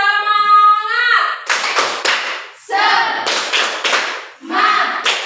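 A school class doing a rhythmic spirit clap, bursts of group hand clapping in patterned beats alternating with loud chanted voices, close and energetic.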